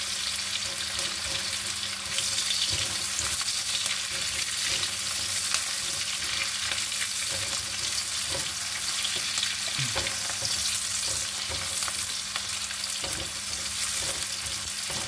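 Onion sautéing in a pan for kare-kare made with pata, a dense continuous sizzle and hiss that stays loud and even throughout, with no voices.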